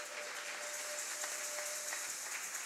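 A church congregation applauds and cheers the word of the Lord during a French-language worship service, with steady, dense clapping sustained throughout at moderate volume.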